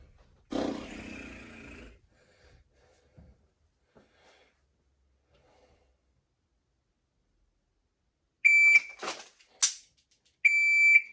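Electronic shot-timer beeper used during dry-fire pistol practice, giving a sharp high beep followed by another after a brief gap, preceded by a short voice and quiet clicks.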